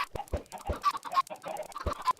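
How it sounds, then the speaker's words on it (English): Several video game chickens cluck in quick, uneven bursts, close by and fairly soft, with no talking. "So that's why I'm making all these chickens."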